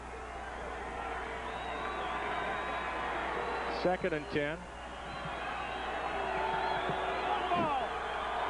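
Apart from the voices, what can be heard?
noisy football stadium crowd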